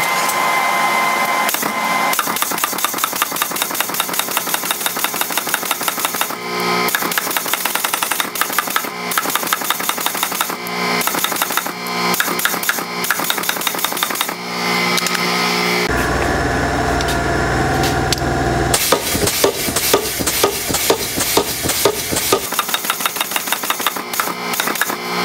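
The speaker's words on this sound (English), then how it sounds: "then I'm gonna forge my taper down and I'm gonna let the sides roll and collapse" Copper being hammered while forging a spatula, with a dense, steady run of rapid metallic strikes throughout, a short stretch of louder broadband noise near the middle, and no talking.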